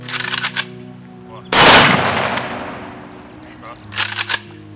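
A loud rifle volley from a military funeral salute for fallen defenders cracks out at close range, echoing outdoors at a cemetery in Kryvyi Rih, with fainter shots before and after and a murmur of people in the background.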